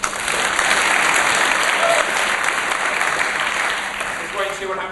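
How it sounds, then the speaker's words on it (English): A keynote audience in London gives volunteers a round of applause, a dense, loud wash of many hands clapping that holds steady and then tapers slightly near the end. "Give them a round of applause."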